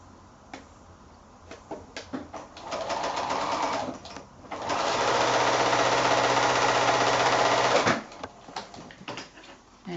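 A sewing machine joins rows of novelty five-inch quilt squares in two sustained bursts of rapid stitching. The first is shorter, the second is longer and steadier, and both are close and loud, with a few clicks and handling sounds around them.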